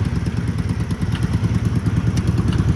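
An IZh motorcycle engine running, a close steady rapid thumping pulse with loose mechanical clatter, alone throughout.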